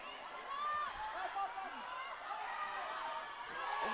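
A crowd at a school netball championship match between Victoria and New South Wales cheers and murmurs at moderate distance, swelling and easing over a few seconds while a commentator talks over it.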